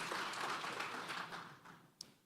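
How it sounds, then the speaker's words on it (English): An audience at a panel discussion on digital tax administration gives a round of applause, a dense burst of clapping that thins toward the end, with one sharp isolated click near the close. "round of applause, please"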